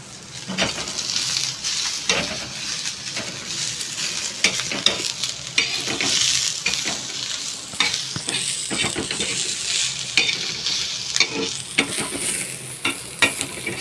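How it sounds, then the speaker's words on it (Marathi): Grated coconut and tomato roasting in an oil-filled pan for a spicy capsicum curry, with a steady close sizzle and constant scraping, stirring strokes throughout. "आपण हे खोबरं घेतलेलं आहे त्याला पण छान तांबूस कलर येईपर्यंत भाजून घ्यायचे"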